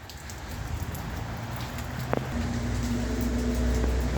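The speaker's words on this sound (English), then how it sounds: "I'm under the cover because the rain's coming down in bucketfuls." Heavy rain pours steadily onto a covered shelter at a Westernport line railway station, a dense continuous hiss that swells slightly louder toward the end, with a brief low rumble and hum partway through.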